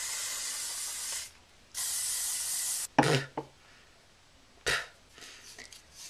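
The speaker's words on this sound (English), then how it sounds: "we're going to spray it down with hairspray" Hairspray from an aerosol can hisses onto hair in two long bursts, close by, followed by a few soft rustling and handling noises.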